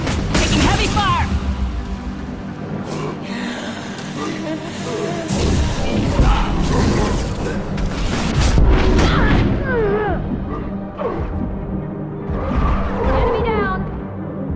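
Heavy gunfire and explosions in the sci-fi shooter game Mass Effect 2, with loud booms and bursts layered over constant combat noise and a talking voice throughout.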